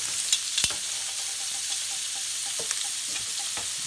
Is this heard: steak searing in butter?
yes